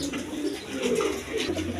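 Sirazi pigeons in a Lahori-style pair, coo in low throaty rolls, close and steady across the moment with no talk, amid faint background noise.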